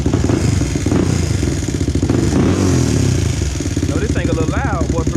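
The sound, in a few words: Honda TRX400EX ATV engine starting and running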